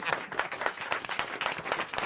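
A studio audience applauds on a French radio comedy panel show, with dense, steady clapping from a nearby crowd filling the whole stretch.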